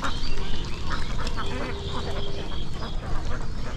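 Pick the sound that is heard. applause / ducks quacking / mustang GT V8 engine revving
ducks quacking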